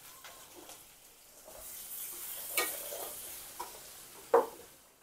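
Onion and garlic fry in a pan for a native-style sambar, giving a soft continuous sizzle under stirring scrapes and a few sharp clacks of a spoon against the pan, close and fairly quiet.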